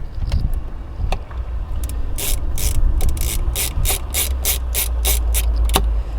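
Tiny screw driven into a motherboard standoff while building a computer inside a Tesla Model Y, heard as a close run of rapid ratcheting clicks, steady and evenly spaced.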